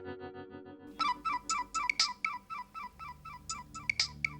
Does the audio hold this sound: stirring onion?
no